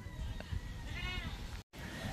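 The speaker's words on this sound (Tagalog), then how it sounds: "Meron tayong kambing mga kasword oh, para sa blessing daw dito." A goat kept for a blessing ceremony bleats once, a short wavering cry heard faintly among background noise, with people talking nearby.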